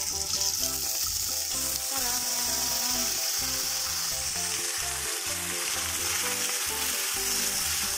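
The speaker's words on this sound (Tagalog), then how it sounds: "Halo-haloin lang" Ingredients fry in a pan while being stirred, a loud continuous sizzle with repeated scraping strokes and clatter running throughout, with no talking.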